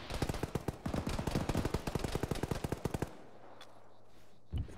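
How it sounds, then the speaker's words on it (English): Automatic gunfire in the military shooter game Arma: a long, rapid burst of close, loud machine-gun shots that stops abruptly, followed by a quiet hum and one brief later thump. "The guy's like shooting through the rubble there."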